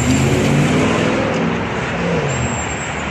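Steady road traffic with buses and taxis on a city road in Dubai and Sharjah, a continuous broadband roar of engines and tyres with vehicles passing close by, no talk over it.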